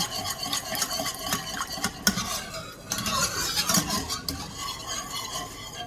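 A metal whisk scrapes and stirs breakfast gravy in a pan with steady, close scraping and clinking and a soft sizzle underneath.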